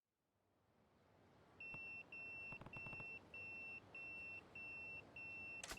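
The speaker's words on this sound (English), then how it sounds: "That's my beeper." A pager beeps in the video game Yakuza 0, a series of regular electronic tones in evenly spaced pulses, clear and fairly loud over quiet background hum.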